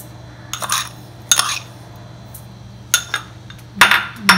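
Milk and sugar batter for French toast is beaten in a bowl, giving sharp clinks and scraping taps in irregular bursts, close and clear over a steady low hum, with no talk.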